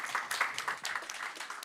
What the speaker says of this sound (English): A round of applause for Sambo